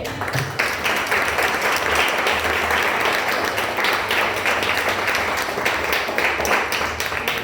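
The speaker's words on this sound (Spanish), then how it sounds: "Den un aplauso al Señor." A church congregation gives loud, dense applause during a Spanish-language sermon, a full and steady roar of many hands clapping close by for several seconds, with a few voices calling out beneath it.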